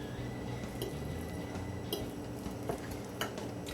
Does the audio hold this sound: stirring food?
yes